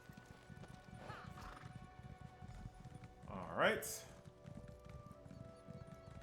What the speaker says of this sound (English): Jump on our horse.